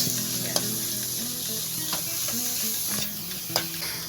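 Grated carrots go into a hot pan of crab fat for aligue pasta, setting off a bright, steady sizzle with occasional stirring clicks and scrapes close by.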